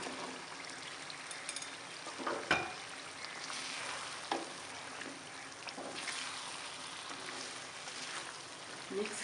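Potatoes, peas and green chillies frying in a pan for aloo matar, a soft, steady sizzle and crackle with occasional louder scrapes and clinks from stirring, faint and continuous throughout.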